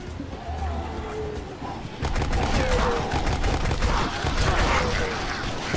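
Rapid crossbow shots fire in the zombie shooter game Dead Trigger 2, a dense run of sharp repeated impacts growing louder partway through, with game effects layered around them.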